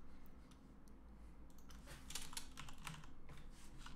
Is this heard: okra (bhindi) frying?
no